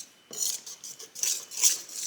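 Sweetened condensed milk and vanilla whisked in a bowl, a quick run of light, close clinking scrapes in uneven strokes, with no talking.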